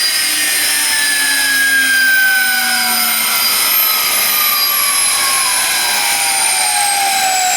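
A Fischer Dottikon center hole grinding machine spins with a high, loud, steady whine, its pitch sliding slowly downward as it runs on, with no talking.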